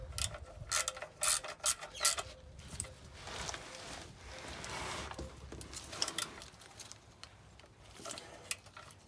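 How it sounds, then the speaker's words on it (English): A ratchet tightens the oil filter housing on a first-generation Toyota Previa, giving close, uneven bursts of clicking and rasping with metallic rubbing between strokes and no talk. "Then ratchet her up."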